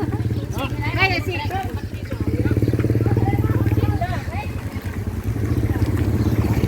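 Motorbike ride through a quiet Lao village, the engine droning steadily and close throughout, with a person talking over the top of it.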